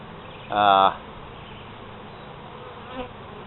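Honey bees drone around an open hive during an inspection of brood frames, a single loud harmonic buzz swelling close by for a moment before fading into a low, steady background hum, with a faint second pass later.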